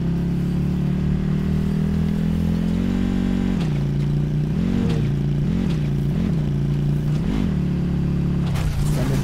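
Quad bike engine in Call of Duty Black Ops 4 Blackout, a loud constant motor drone that rises in pitch, then wavers through repeated revving surges and dips, close and continuous.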